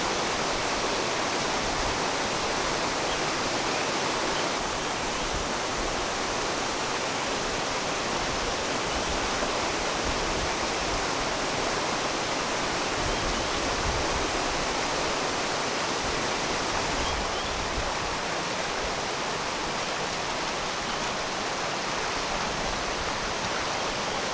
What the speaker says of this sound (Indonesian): Di sisi barat area camping ada aliran sungai yang jernih dan alami.